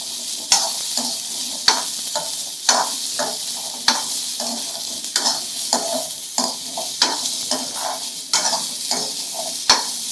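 Onion sautéing in a pan for a karunai kizhangu (elephant yam) kuzhambu, with a steady oily sizzle and a regular rhythm of spoon scrapes and stirring strokes roughly every second, close and fairly loud, no voices.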